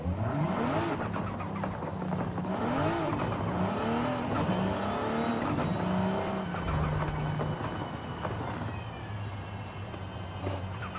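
A Toyota Supra in the racing game Forza Horizon 5, played on a Logitech G29 wheel and shifter, revs up and down through repeated gear changes, its engine note climbing and dropping in loud continuous sweeps with no talking over it.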